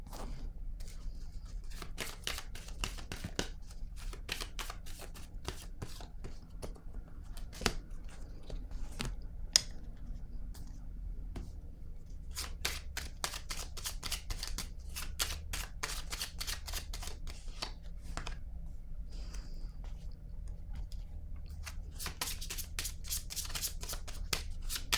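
An oracle card deck is shuffled continuously, close and fairly quiet, with rapid riffling bursts and soft card slaps repeating throughout and no talking.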